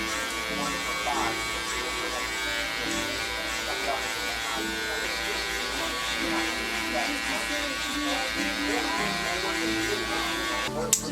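Electric hair clippers fitted with a number 2 guard, lever open, run as a steady, close buzz through a barbershop fade, with people talking over the continuous hum.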